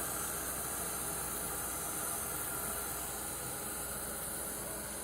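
Heat gun blowing a steady, loud hissing stream of air over painted paper coated in glue, constant and unbroken throughout with no speech.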